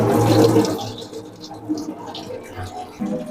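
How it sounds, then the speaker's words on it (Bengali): Rice for vegetable khichuri swishes and sloshes in a pot of water as it is washed by hand, a close, continuous watery churning with small splashes. "আমি চালটা তিন থেকে চারবার ভালো করে ধুয়ে নিব"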